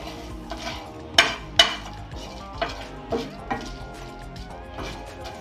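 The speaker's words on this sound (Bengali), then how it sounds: "এবার এই মশলাগুলো তেল ছাড়া কিন্তু আমি রোস্ট করব" Whole spices dry-roast without oil in a hot nonstick pan, with a faint sizzle under several sharp scraping and clanking hits of a utensil against the pan.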